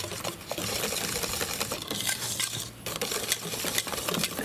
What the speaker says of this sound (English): you wanna whisk it pretty well